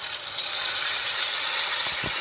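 Water poured onto pork and potatoes frying in a pan sets off a steady, loud hiss of steam and sizzle that holds for about two seconds with no talking.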